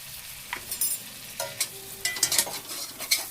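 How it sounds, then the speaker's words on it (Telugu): Egg frying in a pan with chaat masala and lemon juice, stirred with a utensil: quiet background sizzle broken by repeated sharp scraping and clinking strokes, close by, with no talk. "ఇంకా ఎగ్ కూడా బాగా ఫ్రై అయిపోయింది"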